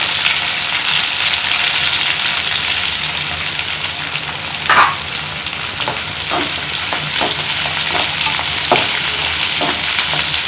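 Cinnamon, cloves and fennel seeds frying in hot oil for chicken kurma, a loud steady close sizzle with a few brief stirring scrapes later on, no talking.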